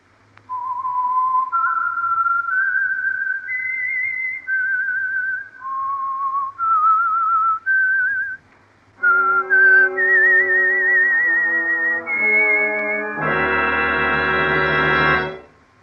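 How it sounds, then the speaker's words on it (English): Whistled theme of The Whistler radio program, a clear solo melody of sustained notes that gives way to a loud, full orchestral chord passage, close and without talk. "the signal to listen for is this whistle that identifies the Signal Oil program"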